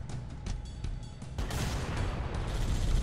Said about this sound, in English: Nice explosions in the distance.